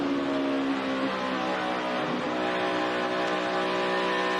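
A NASCAR race car engine at the 2011 Heluva Good! Sour Cream Dips 400 drops from about 9,200 RPM at the end of the straightaway. The loud, continuous, close engine drone shifts pitch as it slows.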